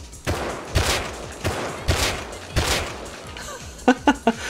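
Semi-automatic rifle shots in the survival video game Rust, a handful of spaced booming reports followed by a quick burst of three sharper cracks, heard loud and close.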